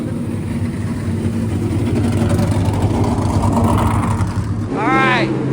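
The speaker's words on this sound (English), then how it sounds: "Hit that throttle one time. Dude, it sounds so good." A loud NASCAR race car engine rumbles and revs steadily nearby, its pitch climbing and falling, with a sharp rising rev near the end.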